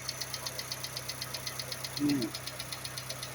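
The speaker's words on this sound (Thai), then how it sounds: "เครื่องยนต์ไม่มีไอ เดินเรียบ" A Honda City engine idles with a steady, even rhythmic throb, a brief low thump breaking in partway through.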